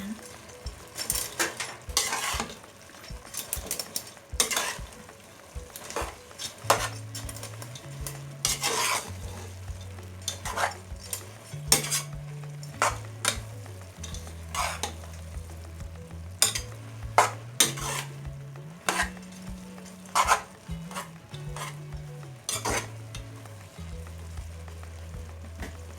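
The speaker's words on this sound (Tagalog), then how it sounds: "Haluin lang po natin." Pancit bihon noodles cook in a pan and are stirred with a utensil. Frequent scraping clinks and taps run over a steady low sizzle, and a low melodic background tone plays throughout.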